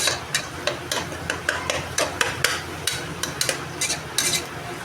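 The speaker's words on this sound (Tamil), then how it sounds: "உப்பு போட்டு கிண்டிகிட்டு இருக்கேன்." A spoon stirs salt into softening tomatoes in a pan, with a string of sharp scrapes and taps against the metal at an irregular, quick rhythm over a low sizzle, close up and with no talking.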